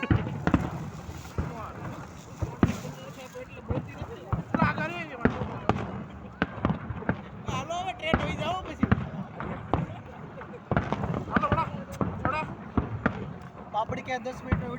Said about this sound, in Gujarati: લક્ષ્મી બોમ્બ જોય આમાં